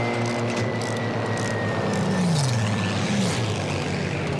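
Propeller engine of a BF 109 G6 fighter in the video game Battlefield V, a steady loud droning hum with a slight pitch sweep as the plane manoeuvres, no voices.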